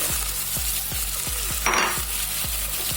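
Raw coconut mix with green chili and cumin fries in a pan for pumpkin poriyal, a steady broadband sizzle under rhythmic low scraping strokes of a spatula at about five per second, with a brief brighter burst midway, close and loud.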